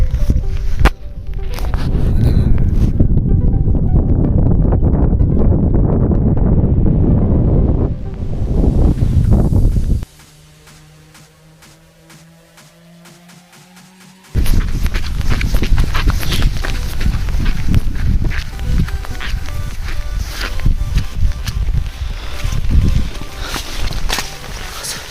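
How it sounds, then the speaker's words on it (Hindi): Horses plodding along the Sarutal mountain trek in light rain, hooves thudding under heavy wind buffeting, a quiet pause midway with a faint tone, then footsteps and wind resume. "घोड़े घोड़े यहाँ पे।"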